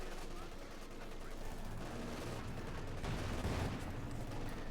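Machine gun fire rattles continuously in a busy Company of Heroes 2 battle, with dense distant shots and explosions running under a steady commentator's voice.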